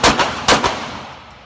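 Two quick pairs of sharp reports from a 1911 Lite pistol fired one-handed in rapid succession, each crack followed by a short echo that trails off into near silence.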